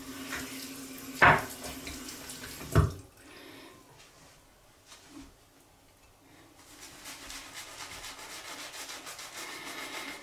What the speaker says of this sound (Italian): Adesso ci aggiungo un po' di acqua